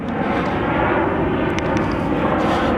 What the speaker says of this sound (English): I got a plane going right over me.